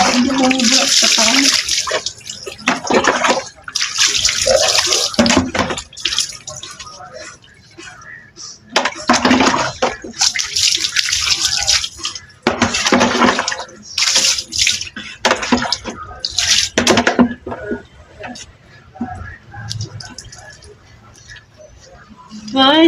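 Water splashes and runs in repeated bursts during bathing, loud and close, with a voice talking in between the bursts.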